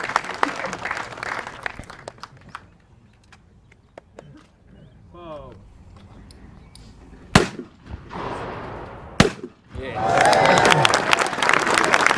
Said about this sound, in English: Pair scored on that one. That's good shooting there from George.